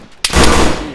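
A single sharp gunshot in the video game Arma 3, a loud sudden crack after near silence with a ringing tail that decays over the following second.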